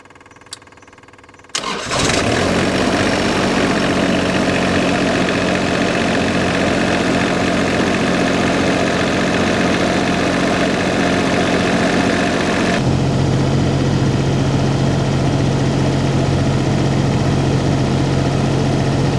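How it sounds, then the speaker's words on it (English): An Onan engine cranks and fires after a brief quiet moment, then settles into a loud, steady idle that holds evenly. The tone shifts slightly lower partway through. "we're going to go ahead and start this engine, make sure it runs smoothly, there's no hunting, no surging"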